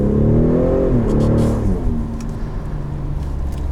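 A 2019 Ford Raptor's engine revs up hard as the automatic kicks down on a wet road, a rising drone that peaks around the midpoint and then settles into a steady, loud cabin hum with a voice briefly over it.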